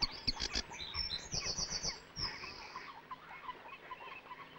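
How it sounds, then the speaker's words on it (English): A sedge warbler sings in a reed bed in spring, a fairly faint, varied run of rapid chirps and trills over a quiet background, with the song fading in the second half. "The varied song of the sedge warbler announces its arrival for the northern summer."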